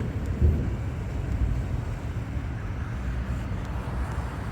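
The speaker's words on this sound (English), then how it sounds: "There's some crazy thunder strikes too." Low, distant thunder rumbles steadily across a California afternoon, a soft continuous roll with a slight swell near the start and no voices over it.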